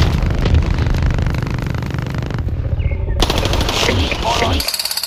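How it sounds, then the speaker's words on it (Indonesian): A toy gun blasts a continuous loud rat-a-tat of electronic machine-gun fire, pausing briefly midway, with a voice speaking over it. "tembakan army"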